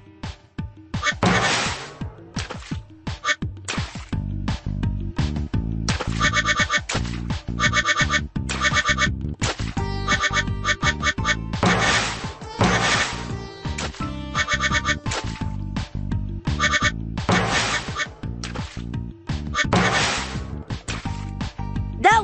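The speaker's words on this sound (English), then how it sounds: "Sky will help you get to rubber duckies that are hard to reach." Cartoonish quacks and squeaky game sounds from rubber duckies in a Bubble Guppies children's video game, repeated rhythmically over a bouncy musical backing track, loud and continuous throughout.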